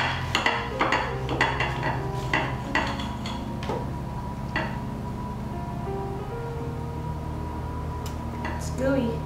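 Knife and fork working through a pork burger stuffed with pepper jack cheese on a plate, giving a run of light clinks and scrapes of cutlery against the plate, fairly quiet with soft background hum.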